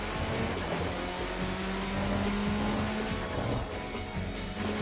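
In the Tokyo Xtreme Racer video game, a turbocharged car's engine hums steadily while a fluttering turbo compressor surge chatters through it, moderately loud and continuous with no talk.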